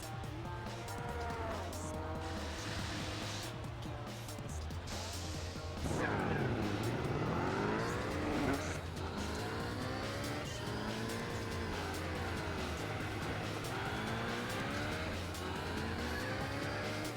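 Race cars on hard tyres in the Gran Turismo 4 video game: continuous engine whine rising and falling through gear changes, with a loud burst of tyre squeal and scraping midway and more wailing squeals after.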